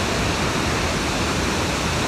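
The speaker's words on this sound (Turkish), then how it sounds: "Şelaleyi çekiyoruz." Iguazu Falls in Argentina pours in a dense, unbroken roar of rushing water, loud and close, filling the whole moment without any talking.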